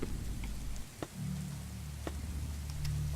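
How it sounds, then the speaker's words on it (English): Steady rain hisses down in the game Kidnapped, a constant wash of falling drops holding at an even level, with a few brief clicks and low tonal hums from the game layered beneath it. "I know it's raining, it's horrible."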